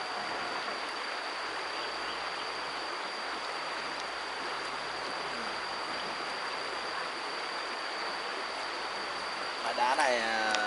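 A mountain stream flows over rocks in a steady broadband rush that stays close and even throughout, with a brief tonal whistle or squeal near the end.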